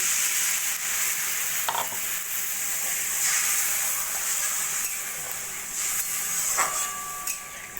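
Water added to a pan of hog plums fried with spices for a sweet-sour pickle, giving a steady, loud sizzling hiss with a few faint clinks, no talking.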